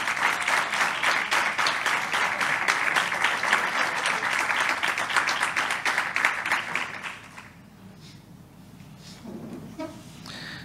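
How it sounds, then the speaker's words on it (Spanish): Sustained applause from the audience at a civil protection award ceremony, many hands clapping in a steady roll for about seven seconds before fading to quiet hall ambience with faint movement. "Daniel Pereda León, un fuerte aplauso para Dani"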